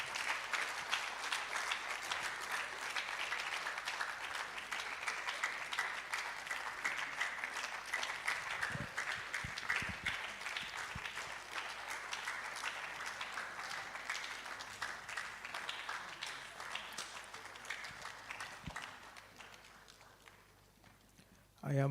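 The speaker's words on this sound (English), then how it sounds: "I am not surprised the young are clapping so loud" An audience at a public lecture applauds loudly and steadily, a dense clapping crowd that keeps up for about twenty seconds before tapering off near the end.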